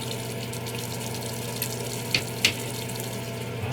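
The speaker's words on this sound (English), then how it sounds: "Now you just wash your face" Water runs steadily from a tap while someone washes their face at home, a continuous faint hiss and trickle with a couple of brief splashes near the end.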